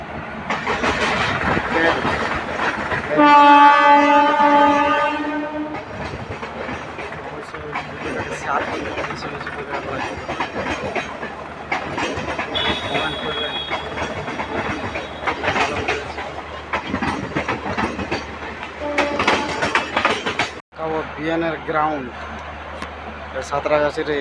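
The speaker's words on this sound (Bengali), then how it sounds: "ট্রেন যাচ্ছে" A train passes a railway office building, a loud rumble with rhythmic wagon clatter, a horn-like tonal burst early on, heard beneath near, steady conversation from people standing close by.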